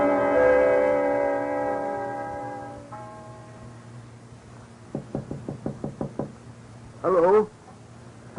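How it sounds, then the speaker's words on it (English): Knocking on a door comes through as a quick run of about eight sharp raps, fairly close and crisp, following a fading musical chord, and a brief voice follows the knocks. "Somebody knocking?"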